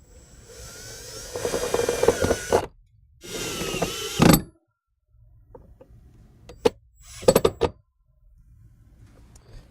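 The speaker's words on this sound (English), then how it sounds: "Okay, so we're going to go ahead and screw it down to the firewall." A power drill drives self-tapping screws into the firewall of a 2010-17 Ford F-150, with several separate bursts of whirring and ratcheting at close range and short pauses between them, and no talking.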